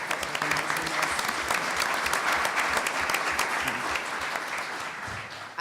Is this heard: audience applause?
yes